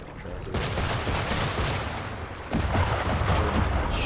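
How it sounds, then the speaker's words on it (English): Ship cannons firing in the Assassin's Creed III naval battle, a dense run of loud booming blasts and crackling gunfire that swells again near the end, close and continuous with no talk. "They're popping that out from these cannons."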